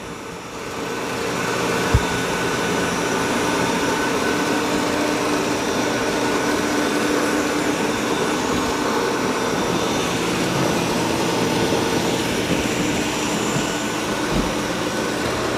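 Ecovacs Deebot X2 Omni robot vacuum and mop running close by, a steady loud broadband whir with an even motor drone throughout, a couple of faint bumps near the start and end.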